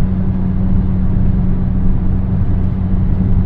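A turbocharged van engine drones steadily and loudly under boost while climbing a grade, with a constant low hum and rumble and no talk.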